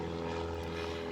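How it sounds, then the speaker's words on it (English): A propeller airplane passes overhead, a steady low drone holding across the whole short moment with no talk over it. "there's a plane going by"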